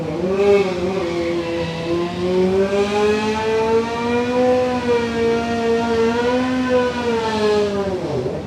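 Drag racing car doing a burnout at a Florida dragstrip, a loud, steady engine howl held near constant pitch for about eight seconds, swelling slightly and dipping at the end.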